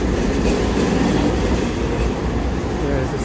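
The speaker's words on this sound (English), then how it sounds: "There's the SkyTrain." A Vancouver SkyTrain metro train runs along its rails nearby, a loud continuous rumble with rapid wheel clatter throughout.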